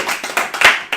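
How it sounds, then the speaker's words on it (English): A small group clapping for a donor, a burst of loud, close handclaps in quick uneven succession over about a second. "Can we all just clap for this guy?"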